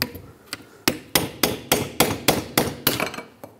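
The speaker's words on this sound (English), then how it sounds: "Take a pry bar and a hammer, and just tap it straight out." A hammer strikes a pry bar to knock out an inner wheel seal from the knuckle of a 1996-2002 Toyota 4Runner: about a dozen sharp metallic taps in a steady, quickening rhythm, close and alone.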